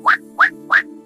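Three evenly spaced quacks from a cartoon duck in a children's story, loud, close and alone.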